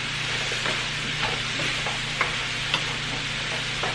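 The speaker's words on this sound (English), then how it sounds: "This is like kind of like a fast stir fry, so I'm letting the heat stay on high" Vegetables fast stir-fried on high heat hiss in a steady, dense sizzle, with a few sharp scrape and tap clicks from the pan scattered through it.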